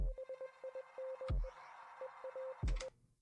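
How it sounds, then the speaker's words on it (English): Short electronic Morse code beeps from the video game Inscryption tap out in quick irregular groups of dots and dashes, clean and isolated, broken twice by brief low thumps. "we hear a bunch of beeps and boops"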